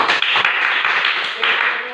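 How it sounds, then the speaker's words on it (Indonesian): Students in a classroom clap their hands together in a dense burst of applause that continues throughout, with voices mixed in. "Coba semua tepuk tangan."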